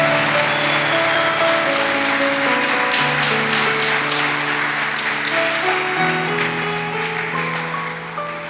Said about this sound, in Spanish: si le va a aplaudir al Señor, apláudale con todas sus fuerzas.